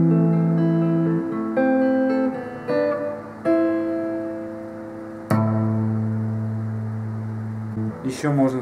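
A guitar plays the closing passage of a song, a few plucked notes and chords left ringing and slowly fading, with a short scrape at the very end.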